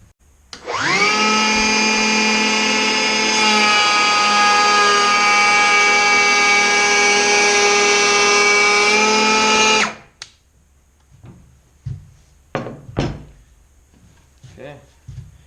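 Milwaukee M18 cordless 3 1/4-inch planer cutting along the edge of a wooden workpiece: a loud, steady high-pitched whine for about nine seconds, then it stops abruptly, followed by a few faint clicks and handling knocks.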